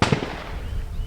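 Gunfire from a carbine course at a neighbouring shooting range booms out in a sharp report, followed by a long rumbling echo that fades slowly across the open range.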